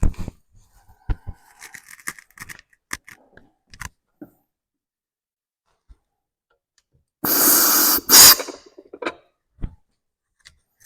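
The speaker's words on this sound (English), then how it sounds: "we're going to use compressed air to move the piston out" Compressed air blasted into a 4L60E transmission housing to push a piston out, a short loud hiss lasting about a second amid quiet workshop clicks and handling taps.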